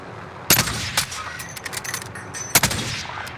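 Gunfire in Call of Duty Warzone, two sharp loud shots about two seconds apart with scattered lighter pops between them, heard in a mostly quiet battle soundscape.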